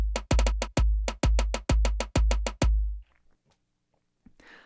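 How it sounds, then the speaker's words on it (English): A rapid run of about a dozen electronic tom hits from a sampler, deep and punchy with quick decay, played in a driving rhythm and followed by faint handling noise. "And the tom sounds like this."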